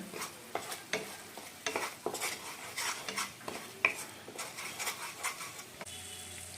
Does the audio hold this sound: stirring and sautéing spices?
yes